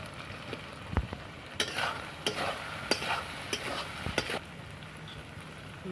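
Fried potatoes stirred in a pan with onion, ginger-garlic paste and salt, a low steady sizzle punctuated by repeated spatula clacks and scrapes against the metal.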